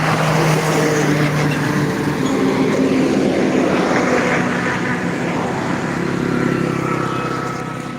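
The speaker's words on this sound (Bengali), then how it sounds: "দেখুন এই সময়ের ভিতরে কত গাড়ি যাতায়াত করলো তথা আপনারা নিজের চোখেই দেখা দেখতে পাচ্ছেন আসলেই এই রোডটা খুবই ব্যস্ততম রোড" Steady midday traffic on a busy road, with vehicles rushing past one after another in a continuous, fairly loud wash of engine and tyre noise and no voices.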